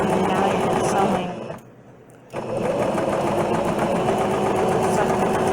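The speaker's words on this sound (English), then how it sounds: "now you're sewing" A sewing machine stitches fabric for a face mask, running at a steady, close-up motor whir and needle chatter that stops briefly in the middle and then resumes.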